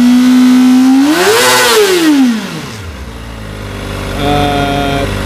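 A motorcycle engine, compared against a Kawasaki ZX25RR, revs up loudly and close with a rising then falling whine before settling back to a steady, rougher idle.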